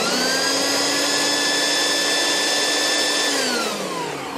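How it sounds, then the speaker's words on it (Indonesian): A Sharp blender motor spins with a loud, steady high-pitched whine and strong hum for about three seconds, then winds down in pitch as it slows; close and alone, no speech. "Ternyata mau berputar ya blendernya."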